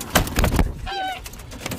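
A goose honks loudly from a played recording, a short run of harsh nasal honks after a few dull thuds, with no talking.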